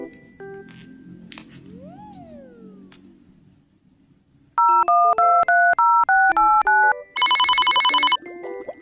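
A telephone number is tapped out as a quick series of about seven touch-tone beeps after a brief musical swoop, then a bright electronic ring starts up.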